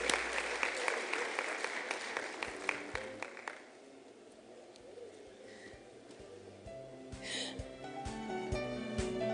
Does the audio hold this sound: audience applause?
yes